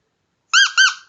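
A sarune reed fashioned from a drinking straw is blown in two short, bright buzzing bursts that bend slightly in pitch, heard close and alone against silence.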